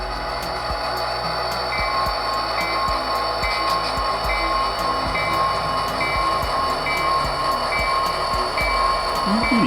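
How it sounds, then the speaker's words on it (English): A locomotive pulls out with a steady, loud rail rumble and a mechanical hum, marked by rhythmic clicking from the wheels over the track. "We're pulling out the locomotive here there."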